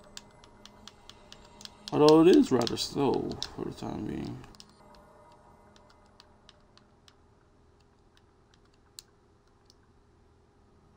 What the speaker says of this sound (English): I'm typing in my name.